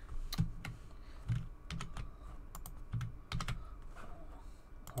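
Keys are pressed on a computer keyboard in small irregular clusters of close, crisp clicks separated by brief pauses, fairly quiet and without any talking.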